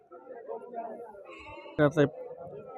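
Goats bleat at a weekly livestock market: two short, loud cries close by near the end, over a bed of murmuring crowd voices and people talking.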